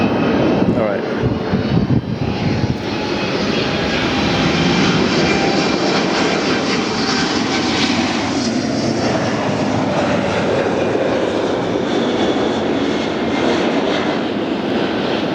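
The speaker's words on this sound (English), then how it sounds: "it is the oldest 777 flying on planet Earth" A United Boeing 777, the oldest still flying, roars past at LAX, its jet engines a loud, sustained broadband rush that swells and holds, with people talking under it.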